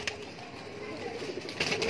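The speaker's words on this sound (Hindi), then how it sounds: "इसके अलावा एक ये कबूतर है।" A pigeon kept among breeding birds coos softly against a busy, noisy background over a couple of seconds, with a little louder stretch near the end.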